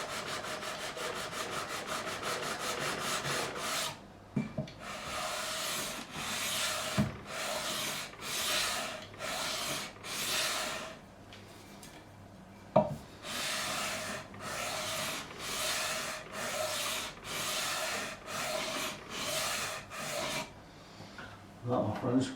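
A file or sanding block smooths the fretboard edges and binding on a 2005 Gibson Les Paul after the fret nibs are cut off. Close rhythmic rasping strokes repeat back and forth with brief pauses and a few knocks.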